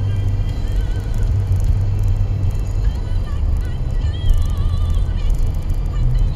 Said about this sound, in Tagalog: Tumatakbo na yung sasakyan.